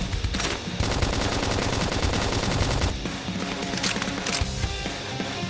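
Combat gunfire in Xenoblade Chronicles X: dense, rapid machine-gun bursts crackle loudly and nearly nonstop, with brief lulls between volleys and no talking.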